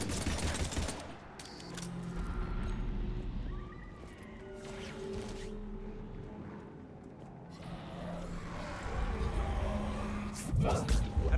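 Rapid gunfire bursts in Mass Effect 3, a dense volley at the start and another sharp cluster near the end, with voices talking over the quieter stretch between.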